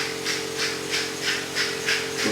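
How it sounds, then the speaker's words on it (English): Chicken sizzles in a hot pan during home meal prep, giving a steady hiss that swells in regular pulses over a low hum, with no talking. "I'm gonna let it sizzle a bit."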